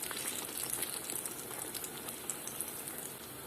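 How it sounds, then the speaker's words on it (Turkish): A continuous crackling sizzle of Turkish kadınbudu köfte meatballs frying in plenty of hot oil, steady and close, with small pops throughout. "Böyle bol yağ, bol kızgın yağda kızartıyoruz arkadaşlar."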